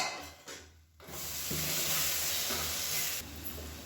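Masala for a tomato-free chicken biryani fries in oil over a medium flame, giving a loud, continuous hiss and sizzle that drops briefly near the start as a lid lifts and then swells back to full strength.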